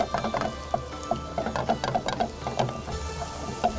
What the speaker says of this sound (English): Increase the heat to full and start folding it. I'm also pressing it down